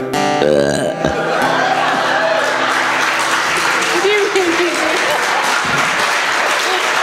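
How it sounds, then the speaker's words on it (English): A loud, drawn-out burp after drinking root beer, performed live before an audience and followed by sustained applause and crowd noise. "root beer makes me burp"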